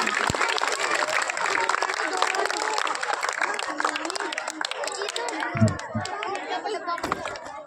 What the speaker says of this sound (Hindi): एक बार जोरदार तालियों से स्वागत करें इनका